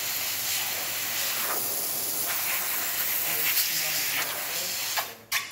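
A two-group Zacconi espresso machine's steam wand gives a loud, constant close hiss that runs almost the whole time, ending with a couple of short sputters, while a voice speaks faintly underneath.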